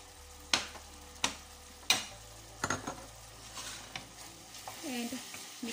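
A spoon stirs white cabbage and beef seasoned with garlic powder, thyme and ginger powder in a sizzling pan, with a few sharp knocks against the pan and then a soft, steady scraping over a faint fry.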